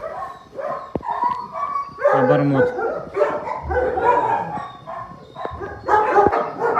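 Several dogs in an animal shelter bark and yip repeatedly nearby, overlapping in a noisy chorus, with a brief spoken word mixed in.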